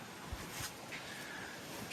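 Wind gusts across a microphone in an outdoor rear garden, a steady broadband rush with a few low thumps, moderately loud and continuous with no voices.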